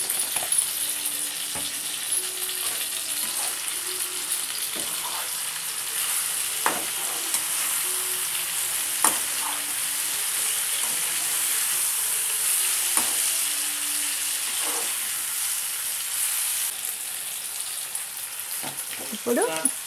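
Brinjal, green chilli and ginger curry fries in a pan with a steady soft sizzle, punctuated by scraping spoon stirs and clinks against the metal, close up and fairly quiet.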